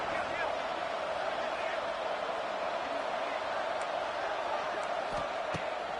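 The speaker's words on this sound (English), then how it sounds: "Guns up, and so is the noise. The crowd electric, trying to help Tech on this third down." A football stadium crowd at a Texas Tech game roars steadily during a third-down play, a dense, loud, unbroken wash of crowd noise.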